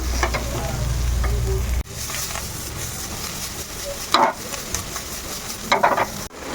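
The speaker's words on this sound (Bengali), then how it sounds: "এবার এটাকে জাস্ট মিক্স করে যেতে হবে" A crispy American corn snack mixture is stirred with a hissing, gritty texture throughout. A few sharper scraping bursts of the spoon come through near the end, close by with no speech.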